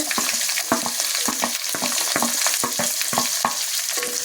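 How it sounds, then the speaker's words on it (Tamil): Small shallots frying in oil with curry leaves in a pan, a steady close sizzle broken by regular scraping strokes of a spoon stirring them, roughly two or three strokes per second. "சின்ன வெங்காயத்தை போட்டு வதக்குங்க."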